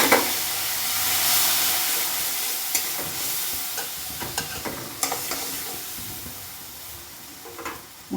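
Spice paste with turmeric and water stirred in a hot pan, a broad hissing sizzle overlaid with intermittent scraping strokes, close and steady, no talking.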